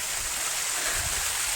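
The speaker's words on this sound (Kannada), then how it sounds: "ಇಲ್ಲಿಂದ ನೀರೆಲ್ಲ ಹರಿದೋಗಿ ಅಲ್ಲಿ ಫಾಲ್ಸ್ ಮುಖಾಂತರ ಬಂಡೆ ಮೇಲಿಂದ ಜಾಡ್ತಿದೆ ಗುರು" Stream water flowing over rocks toward a waterfall, heard as a steady, soft rushing hiss at moderate distance, alone without voices.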